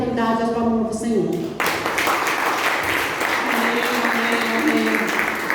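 Congregation applause fills a Portuguese-speaking church service at Igreja Comunidade Cristã Graça e Paz, a dense, sustained clatter of many hands that swells after a voice and continues under intermittent speech.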